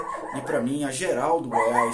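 A dog barking and yipping in the background of a Portuguese-language pre-match talk about Goiás versus Flamengo, its bright barks overlapping a man's continuous speech.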